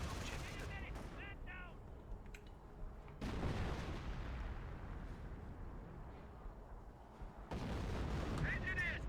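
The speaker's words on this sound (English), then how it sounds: "Howitzer Barrage trying to hit that Panzer IV, which is long gone" Howitzer barrage in the WWII strategy game Company of Heroes, aimed at a departed Panzer IV: dense, continuous rumbling bursts of artillery fire and explosions, loud and sustained, with voices talking over parts of it.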